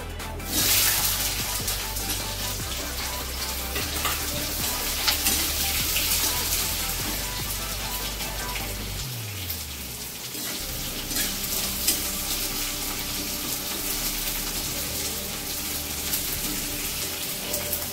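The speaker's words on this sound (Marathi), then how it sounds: "आता कांदा टाकूया आपण।" Onion frying in a pan with coconut, a dense continuous sizzle with stirring scrapes throughout, loud and close, the sizzle surging and then settling after the onion goes in.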